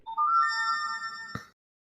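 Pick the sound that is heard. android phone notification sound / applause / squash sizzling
android phone notification sound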